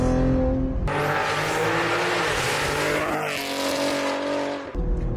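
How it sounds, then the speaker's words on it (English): A 625 whp Cadillac ATS-V being driven hard around a track corner, its loud engine roaring throughout with a light tyre squeal running over it, then easing off near the end. "You can hear that squeal from the tyres, but not much"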